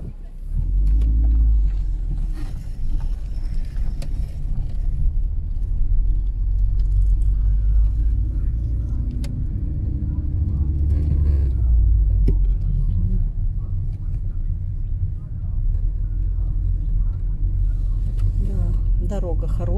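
A car drives along Sovetskaya street in a Russian city, its engine and road rumble low and steady from inside the cabin, while people chat over the noise.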